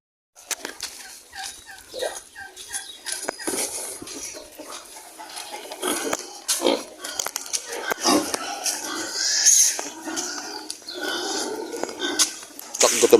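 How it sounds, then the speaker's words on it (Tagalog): Hungry piglets on a farm at feeding time squeal and grunt. The shrill, overlapping cries come close and continuous, swelling louder over several seconds. "Gutom na mga kabrad yung ating mga biik."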